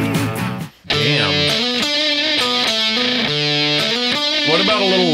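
A Guild Starfire electric guitar plays through heavy distortion, thick sustained chords and riffing that ring out loud and steady after a brief gap near the start.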